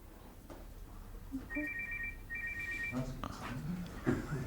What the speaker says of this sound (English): Whose phone is that? That's the second time it's gone off.